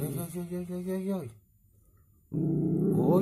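A miniature schnauzer growls over a bone in short, rough bursts close by. A person talks over part of it, and the sound breaks off briefly before resuming loudly.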